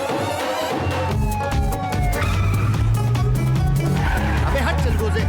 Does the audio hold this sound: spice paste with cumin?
no